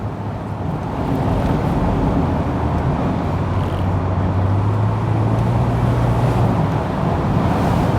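A Mercedes-Benz SL320 R129 engine pulls above 3,500 rpm, a steady loud drone whose pitch climbs smoothly as the revs rise, heard from inside the car without speech.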